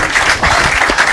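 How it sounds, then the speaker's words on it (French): Audience applause at a public gathering: a short, loud burst of dense clapping from a crowd, rising and falling slightly over about a second. "Sous vos applaudissements."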